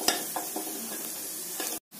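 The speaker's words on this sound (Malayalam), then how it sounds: "ആവശ്യത്തിന് ഉപ്പ് ചേർത്ത് നന്നായി നമുക്കൊന്ന് മിക്സ് ചെയ്യാം." Paneer curry masala with chilli powder and salt is stirred in a pan, giving a soft sizzle with a few light scraping strokes of a spoon before a brief silence, fairly quiet and close.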